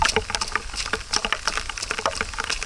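Rain patters steadily during a long outdoor run, a dense crackling spray of drops close by with no voices.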